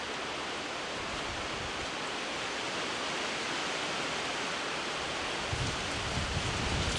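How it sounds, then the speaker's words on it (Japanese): Strong wind roars steadily around a shrine at night, a continuous broadband rush that stays loud throughout with a slight surge near the end, and no talking. "風が強くなってまいりました。"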